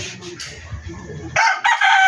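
A five-month-old rooster crows loudly and close by, its bright, strained call rising out of a low background murmur partway through the clip.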